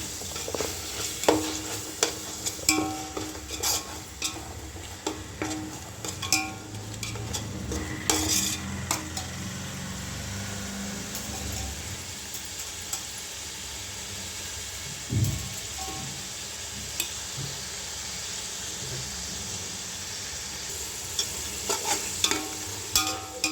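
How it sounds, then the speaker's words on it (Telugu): Ghee sizzling and frying in a pan as the base for Telangana-style bagara rice, a steady crackle with occasional stirring clinks, close and continuous without talk. "బగారన్నానికి నెయ్యి వేస్తున్నాము"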